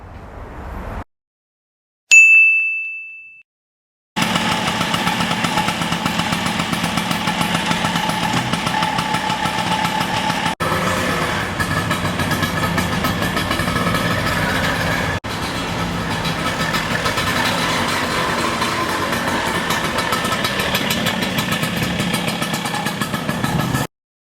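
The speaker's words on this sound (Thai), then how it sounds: "ใช่นี่ปล่อยให้เดินเบานะ นี่ไม่ได้จับคันเร่งเลยนะ" An Italian Vespa Sprint scooter, a 1964-style build, idles untouched by the throttle, its small engine putting out a steady, close putter for about twenty seconds after a brief click and a short tone.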